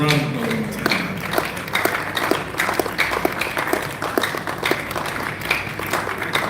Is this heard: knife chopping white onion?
no